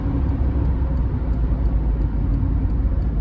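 Steady broadband wind and road rush fills the cab of a 2000 Nissan Frontier XE King Cab with a 2.4 four-cylinder while driving at speed, a constant low roar with faint ticks.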